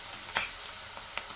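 Onions and green chili frying in a pan for a tomato curry give a steady, close sizzle with a couple of brief stirring clicks, no talking.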